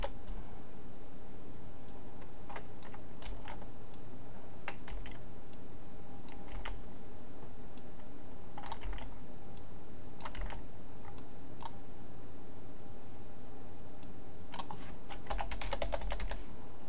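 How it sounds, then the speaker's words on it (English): Typing on a computer keyboard, with bursts of quick clicking keystrokes separated by pauses, close and fairly quiet over a faint steady hum, with no voices. "I know that was a lot of typing."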